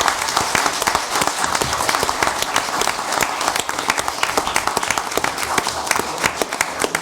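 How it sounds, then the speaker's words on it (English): A room full of people at a town council meeting breaks into a sustained round of applause, dense and loud, with the clapping holding steady throughout. "how about a round of applause for our chief, our assistant chief, and our fire inspector?"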